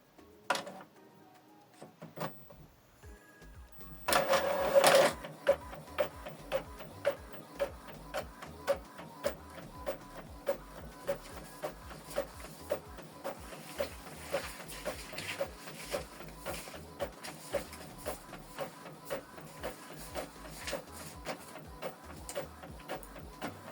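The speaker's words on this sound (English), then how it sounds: "So this document is printing two-sided." Epson WF 2950 inkjet printer printing a two-sided document starts with soft mechanical whirring, a louder paper-feed burst, then a long run of regular rhythmic clicks and carriage pulses.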